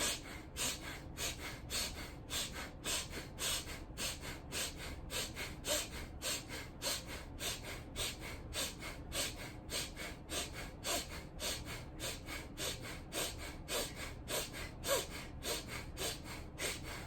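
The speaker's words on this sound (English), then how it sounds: "really sniffing in and out of the nose" Rhythmic, forceful sniffing in and out through the nose during a vocal warm-up exercise, close up and steady, repeating in quick even pulses for the whole stretch.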